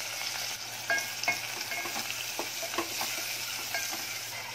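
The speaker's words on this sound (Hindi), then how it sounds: "अब इसमें जाएगा अपना काटा हुआ बारीक प्याज" Finely chopped onion sizzles in hot oil already holding cardamom, cloves and black peppercorns, a steady close frying hiss broken by soft stirring scrapes, with no talk.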